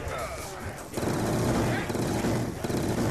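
Rapid automatic gunfire blasts in the Mob of the Dead zombies mode of a video game, a steady dense barrage that swells louder after the first second and continues with a voice talking over it.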